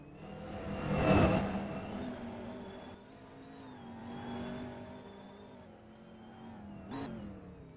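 A Volkswagen GTI race car drifts around Vermont International Speedway, its engine revving and wavering in pitch as it swells nearer, fades, then surges again, with tyre and whir sounds mixed in.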